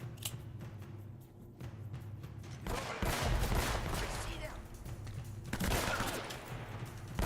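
Gunfire in Uncharted: Drake's Fortune, bursts of rapid shots and sharp cracks from a firefight, loud and close, with game sounds and some voice in the mix.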